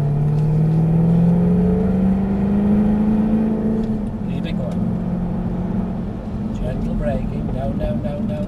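Jaguar car engine under gentle throttle, a loud low drone rising steadily in pitch over the first seconds, then settling into a rumbling cruise with road noise while a voice talks intermittently.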